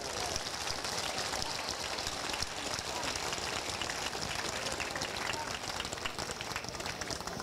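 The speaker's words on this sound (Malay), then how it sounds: "Boleh kita bagi kepada Lim Guan Eng satu tepukan yang gemuruh." Thunderous applause from a crowd at a Malaysian political rally for Lim Guan Eng, a dense, steady clatter of clapping filling the whole stretch without letup.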